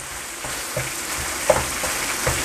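Vegetable fried rice with sauces being stir-fried and mixed in a pan: steady close sizzling with a few louder scrapes and tosses at irregular intervals, no talk.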